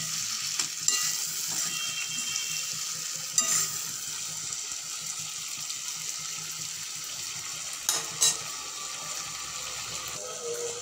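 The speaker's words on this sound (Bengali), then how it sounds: "2-4 মিনিট লো ফ্লেমে কষিয়ে নেব।" Tangra fish cooking in spice paste over a low flame, a steady soft sizzle that runs throughout with a few sharp clinks and scrapes of a utensil against the pan, close up and without talk.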